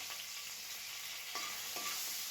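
Asafoetida and curry leaves sauté in hot oil in a pan for jowar upma, giving a steady, quiet sizzle with two brief stirring scrapes near the end.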